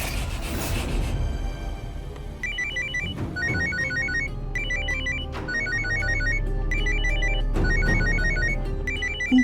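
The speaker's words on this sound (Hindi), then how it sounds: "इनकी माता जी फोन करने लग गई" A phone rings with an incoming call, a repeating electronic ringtone pattern in regular bursts over a music-like background bed, steady and fairly loud throughout.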